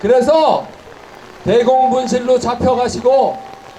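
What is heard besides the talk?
No everyday noises stand out.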